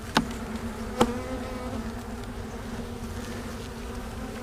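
Honey bees buzzing around a hive frame in a small struggling nuc colony, a steady close droning hum with two brief knocks near the start.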